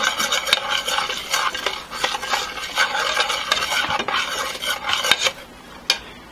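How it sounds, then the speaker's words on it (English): A spoon scrapes across the bottom of a beef stew pan during deglazing, loosening the browned bits in repeated close, rasping strokes with a light sizzle beneath and no talking. "The idea is to scrape up all the little bits and pieces off the bottom of the pan."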